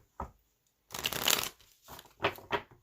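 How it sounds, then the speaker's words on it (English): Tarot cards being shuffled in quick riffling bursts, close and crisp, separated by short pauses, with no voices. "one more shuffle, and let's see what's going on for our Pisces"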